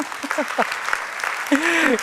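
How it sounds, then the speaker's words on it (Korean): Applause from a church worship congregation patters underneath as voices talk and call out over it. The clip is short and busy, with the speech standing out above the clapping. "예, 그분을 위해서 박수 한번 주시기 바랍니다."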